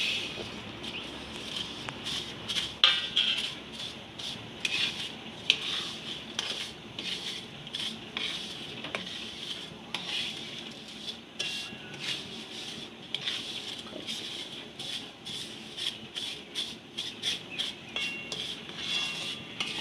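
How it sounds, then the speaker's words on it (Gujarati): Sev vermicelli stirred and roasted in hot ghee in a pan, with a steady run of spoon scrapes and metallic clinks against the pan throughout, close and moderately loud. "તો આપણું આ ઘી ગરમ થઈ ગયું છે, તો એમાં આપણે આ સેવને શેકી લેશું"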